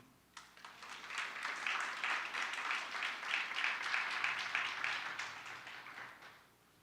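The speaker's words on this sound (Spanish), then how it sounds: "Denle un aplauso al Señor" A church congregation gives a sustained round of applause during a Holy Week family service, many hands clapping in a dense, even wash that swells quickly, holds steady for several seconds, then tapers away.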